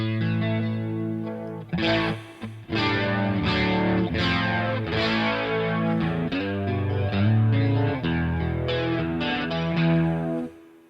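Overdriven electric guitar played through a Marshall amp set to a breakup tone with spring reverb, ringing sustained chords and picked phrases that carry steadily and loudly from start to end, with short gaps between them.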